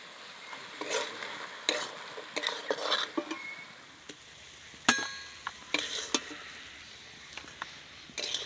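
Banana flower curry with prawns is stirred in a pan, a spoon scraping and clinking against the metal in irregular bursts amid a faint sizzle, close and fairly quiet.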